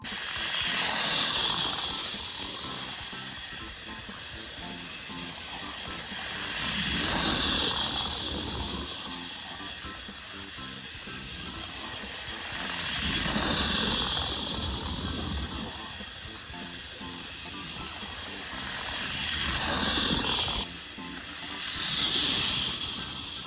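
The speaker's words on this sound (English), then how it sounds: "when you have multiple engines running on a layout, the sound of the track does matter, especially if the track is loud" Motorized Thomas & Friends toy engines run on plastic TOMY or Trackmaster track, giving a continuous whirring motor hum and rattling clatter that rises and falls as the trains pass closer and farther away.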